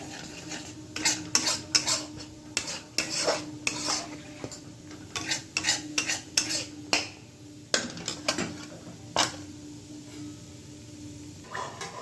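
Masala frying in a kadai wok on low heat while a spatula stirs and scrapes it, giving repeated close metallic clanks and scrapes in uneven bursts over a soft sizzle.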